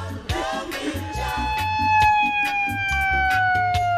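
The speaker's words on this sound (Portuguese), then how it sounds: "Liga a sirene, como é, liga?" Electronic siren wailing in a steady rising and falling pattern alongside a heavy repeating bass beat, with a voice briefly heard over it.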